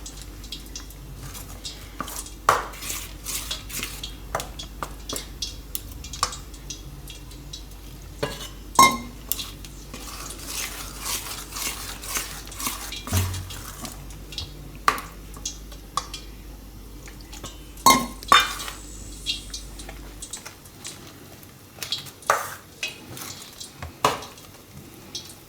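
Gram flour batter for bread bhajiya being stirred and mixed in a bowl, steady scraping and sloshing with irregular clinks of a spoon against the bowl, close and continuous with a low hum underneath.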